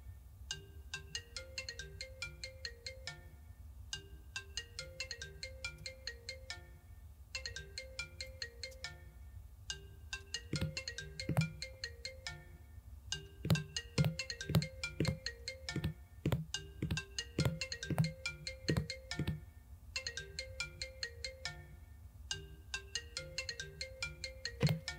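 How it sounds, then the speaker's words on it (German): A telephone rings in the video game Late Night Shift, a repeating electronic ringtone pattern in regular bursts with short gaps, steady and fairly quiet, continuing for a long stretch with no talk. "Wer ruft an? Ich kann gerade nicht ans Telefon gehen."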